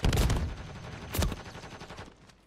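Gunfire in Call of Duty Warzone (MWIII): a loud burst of rapid shots opens, then a second sharp volley follows and trails off into fading echoes, with no talk.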